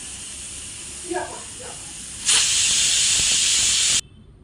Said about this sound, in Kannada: ಈಗ ಕುಕ್ಕರ್ ಲಿಡ್ನ ಕ್ಲೋಸ್ ಮಾಡಿಕೊಂಡು ಒಂದು ಫೋರ್ ವಿಷಲ್ ಕೂಗಿಸ್ಕೊಂಡ್ರೆ ಸಾಕು